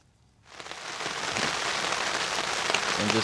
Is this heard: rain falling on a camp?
yes